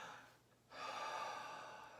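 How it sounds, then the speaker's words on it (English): A man clears his throat with a short snort-like gasp, followed by a longer audible exhale, close and quiet in a classroom setting. "clearing his throat,"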